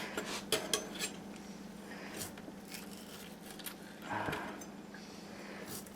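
A knife slices chicken and vegetables thinly on a cutting board, making a quiet series of light taps and clicks, with a few louder knocks near the start.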